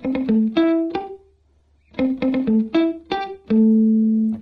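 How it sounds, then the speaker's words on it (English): Short, choppy palm-muted guitar notes in a quick repeating pattern, each one damped and cut off, with a brief pause midway before the line resumes. "We're going to palm mute it with our right hand."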